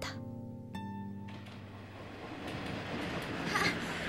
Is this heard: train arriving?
yes